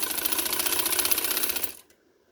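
A sewing machine stitches lace onto fabric, running in a steady rapid mechanical rattle close by for under two seconds before stopping abruptly, leaving near silence.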